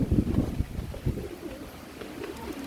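Pigeons cooing nearby in a coop, a few low throaty coos at the start, then softer, fainter calls against quiet background noise.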